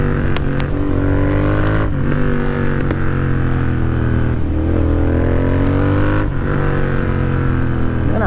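A Royal Enfield GT 650 motorcycle engine runs steadily in third gear, a loud continuous drone with slight rises in pitch and no speech.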